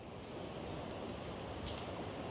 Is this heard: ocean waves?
yes